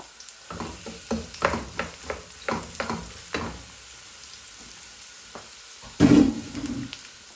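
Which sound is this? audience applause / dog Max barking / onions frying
onions frying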